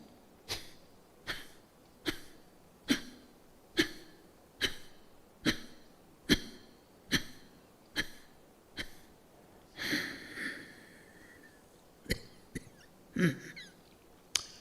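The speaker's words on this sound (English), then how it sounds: "Again I will breathe out." Forceful exhalations pushing air out through the nose, a steady series of about a dozen sharp, evenly spaced bursts roughly every second, close and fairly loud, ending with a few irregular breathy puffs.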